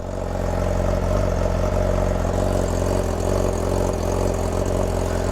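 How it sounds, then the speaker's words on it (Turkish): A brand-new motorcycle engine idles close by with a steady, even low throb and a humming tone that holds unchanged throughout. "Baksana abi rölantide çok tatlı bir sesi var."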